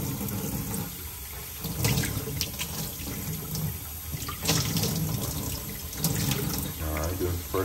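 Cold tap water runs steadily into a container, filling fresh drinking water for puppies in a kitchen sink; the broadband splash continues throughout with a few louder surges, and someone talks over it.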